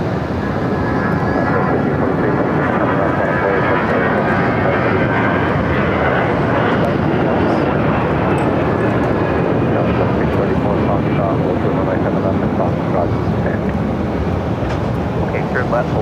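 A Southwest airliner with a special Lone Star 1 livery touches down on runway 7 right at Phoenix Sky Harbor, a loud, steady engine roar heard throughout under radio chatter and voices.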